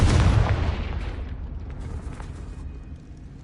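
A Confringo blasting spell detonates in a video game, a loud deep boom at the start whose rumbling tail slowly fades over a few seconds with no one talking.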